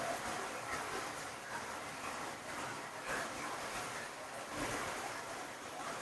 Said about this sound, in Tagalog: Ayan yung tubig.